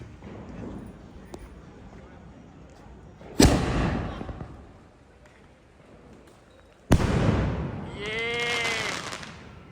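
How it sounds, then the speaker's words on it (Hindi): Firecrackers set off at a Makar Sankranti celebration, two sharp loud bangs a few seconds apart, each followed by crackling and whistling fizz, with outdoor background murmur between them. "आग लगाते हुए फटाके में."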